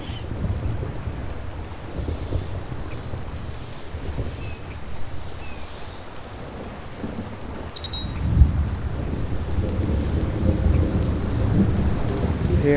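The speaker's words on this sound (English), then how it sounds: "I can hear some ominous rumblings." Rain and low thunder rumbling in the jungle survival game Stranded: Alien Dawn, a steady wash of rain under deep rolling rumbles that swell toward the end, with no talking.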